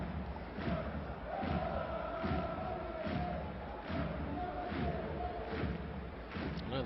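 A huge football crowd of about 83,000 at Barcelona's stadium during a LaLiga match against Granada, singing and chanting steadily with rhythmic thuds and swells, a dense roar filling the whole stretch under faint commentary.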